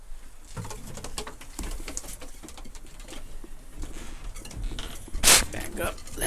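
Homing pigeons in a loft coo softly while feet patter and wings shuffle, with scattered clatters and a brief louder rattle near the end, all fairly faint and busy throughout.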